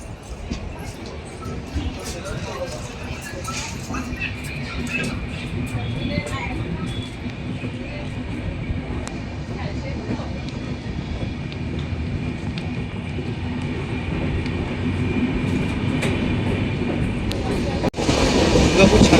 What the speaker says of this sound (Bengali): ছেড়ে বেরিয়ে যাচ্ছে দুর্গাপুর স্টেশন।